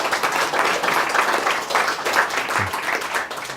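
Audience at a Theosophical Society talk in London applauding steadily, a dense wash of clapping hands holding level throughout with no voices over it.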